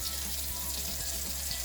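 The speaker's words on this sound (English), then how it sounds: "so you need to add a little water." Water runs steadily from a tap into a cooking pot for boiling beans, a continuous close splashing stream with a faint low gurgle underneath.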